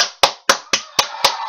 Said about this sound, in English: But let's give a round of applause